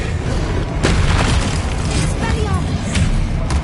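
A Descendo spell cast in the Hogwarts Legacy video game sounds as a dense, loud booming rumble that carries through the whole short stretch, with sharper magical bursts and whooshes layered on top.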